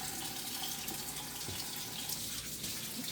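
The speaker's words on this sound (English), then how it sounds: "I'm going to turn the hot water on so I can clean my hands" Hot water runs from a kitchen tap for hand washing after handling raw pork, a steady close rushing stream with no breaks and no talking.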